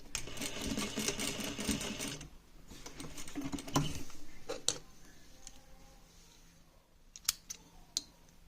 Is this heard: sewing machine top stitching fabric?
yes